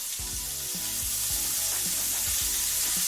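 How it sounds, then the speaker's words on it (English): Garlic sizzles in a hot pan of fried cabbage with smoked sausage, a loud continuous hiss close by, with low rhythmic tones pulsing underneath. "I'm gonna add the garlic to it now"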